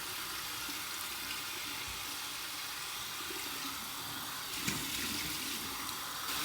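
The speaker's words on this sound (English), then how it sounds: "So here's my warm water rinse." Warm tap water runs steadily into a sink for a rinse after a shave, a continuous close hiss with a brief splash partway through.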